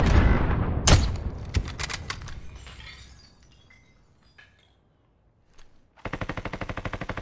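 Gunfire in the battle royale video game Call of Duty: Warzone, with a sharp burst of shots and impacts early on, a quiet lull, then a loud rapid automatic volley at the end.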